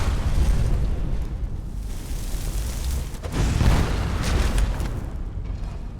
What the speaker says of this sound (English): That explosion is so satisfying.